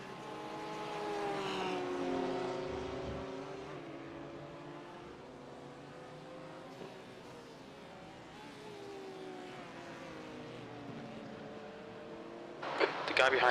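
A BMW race car engine in the iRacing simulator drones at high speed, its pitch sliding slowly as it holds a straight, with a voice talking over it.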